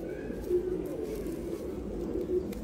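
Racing pigeon cooing softly and repeatedly while held up for display, low throaty coos recurring in a steady rhythm close by, with faint background murmur.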